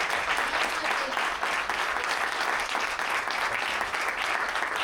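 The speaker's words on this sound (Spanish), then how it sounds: "Un aplauso otra vez para los ponentes." Steady audience applause for the panel speakers at a cultural hip hop event, a dense, continuous clapping that holds at an even level throughout with no talk over it.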